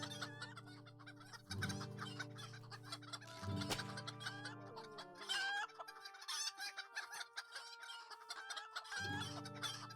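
Chickens cluck and squawk repeatedly in the Chicken Run video game, a steady run of bright, close fowl calls with a brief rooster-like crow, over a faint game backdrop and no talk.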